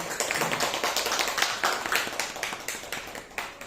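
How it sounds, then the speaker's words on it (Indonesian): A small group claps together at a school dissemination session at SD Negeri Menteng Dalam 07 Pagi, giving a brief, moderately close burst of applause with an uneven rhythm and no voices over it. "Tepuk tangan buat Bu Siti."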